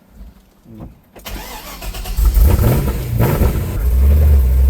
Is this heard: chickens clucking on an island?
no